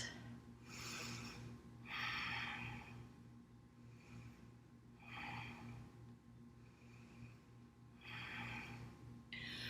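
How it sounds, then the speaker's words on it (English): Slow, deep breathing during a yoga mountain pose with the eyes closed: three drawn-out breath swells, each several seconds long, fairly close and soft over a steady low hum. "3 breaths."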